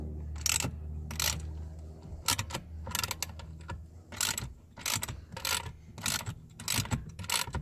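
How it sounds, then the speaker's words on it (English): A small ratchet fitted with a T30 Torx bit undoes Torx screws on a car backseat latch, sharp repeated ratcheting clicks in short bursts with brief pauses, close and fairly loud. "Undo these two Torx screws."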